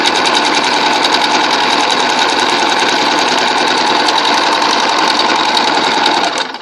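A sewing machine runs steadily, stitching laminated layers over a basting line near a bone casing, its rapid mechanical whirr and needle clatter continuous and close for about six seconds before easing off at the end.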